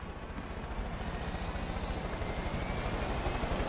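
Helicopter in the Far Cry 5 video game, a continuous rotor and engine drone with rhythmic low thumping, steady and moderately loud with no pauses.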